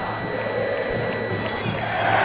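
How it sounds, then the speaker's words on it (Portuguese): Corinthians supporters sing in a football stadium during a Campeonato Paulista match, a steady wash of distant crowd voices heard as continuous broadcast background. "Canta a fiel torcida corintiana."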